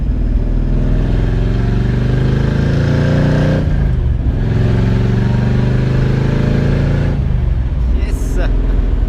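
Pontiac Firebird engine heard from the driver's seat, a loud, steady drone with rising and falling revs as the car accelerates and shifts, filling the whole stretch without pause.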